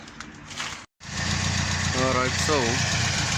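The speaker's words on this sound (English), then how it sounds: "the Opel is now idling, radiator's in" Opel Kadett car engine idling steadily with the radiator fitted, a continuous low hum running under a man's speech, interrupted by a brief dropout before resuming.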